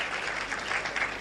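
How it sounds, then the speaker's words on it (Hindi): Applause from a gathered audience at a Moradabad district development event, a steady dense patter of clapping held evenly through a short stretch with no voices over it. "एक बार फिर से जरा तालियां बजा दें"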